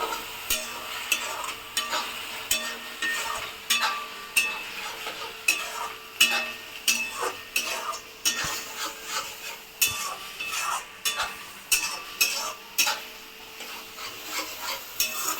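Chicken coated with Kashmiri chili powder is stirred in a sizzling pan for mango dahi chicken, a spoon scraping and knocking in repeated strokes over a soft constant fry, close by with no talk.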